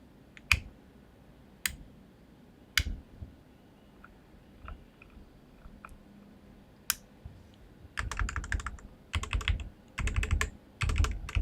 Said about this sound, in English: The sound test is going to be at the end of the video, but here's a preview.